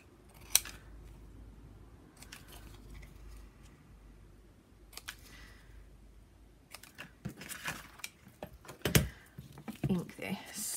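Scissors snip around a paper tag shape for a handmade flip book craft, giving close, crisp, irregular cuts spread across the clip with small pauses between bursts.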